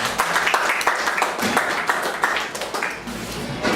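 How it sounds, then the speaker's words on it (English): An audience at a school debate gives a round of applause for a speaker, a steady, close spatter of clapping with a voice talking over part of it. "Let's give him a round of applause, please"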